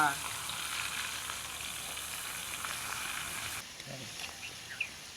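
Onions fry in a pan for a hilsa (palva) fish curry, giving a steady close hiss that eases near the end, with a few faint clinks and stirring noises.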